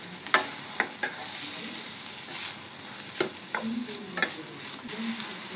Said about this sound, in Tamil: இப்போ பொடியாக கட் பண்ணி வச்சுருக்க குடமிளகாவை சேர்த்துக்கலாம். சேர்த்து அதுவுமே வதக்கிக்கணும்.